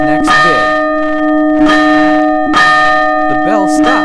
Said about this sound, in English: The bell stopped.